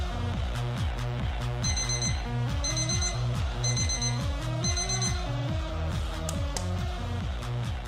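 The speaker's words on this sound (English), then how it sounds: "The alarm clocks." Alarm clocks ring at a ballpark during a Phillies versus Braves game, a loud electronic beeping pattern repeating in steady rapid pulses with a layered tonal melody, continuous throughout.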